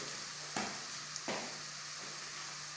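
Carrot, onion and crushed cashew sautéing in a pan, a soft steady sizzle broken by a couple of sharp scraping stirs of a spoon, quiet and close with no talking.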